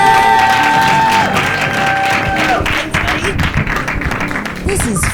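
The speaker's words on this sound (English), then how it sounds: "Keep the applause going." Loud audience applause and cheering fill a small comedy club in Portland between acts, a steady wash of clapping with scattered shouts and voices over it.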